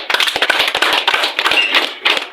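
Crowd at an award celebration party applauding in dense, uneven bursts of clapping, loud and close, continuing steadily with brief dips throughout.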